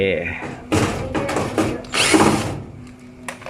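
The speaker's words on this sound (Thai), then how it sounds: "ครับเป็นสว่าน" A power drill whirs in short bursts as it drives out screws from the back panel of a Samsung washing machine, close and moderately loud, with someone talking over the tool.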